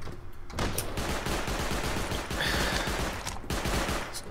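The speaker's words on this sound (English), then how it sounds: "Turret's going off." Automated turret in the survival game Rust firing a rapid sustained burst of gunfire, dense and loud throughout with brief gaps, no voices over it.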